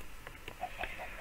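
Chickens cluck softly in a farming video game, a few short faint clucks over a steady low background hum.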